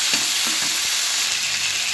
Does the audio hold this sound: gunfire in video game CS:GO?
no